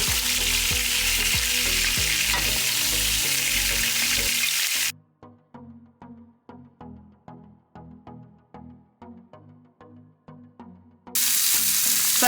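Shrimp sizzle loudly in a pan, a dense frying hiss at first, then a quieter stretch of rhythmic popping and spitting before the loud sizzle returns.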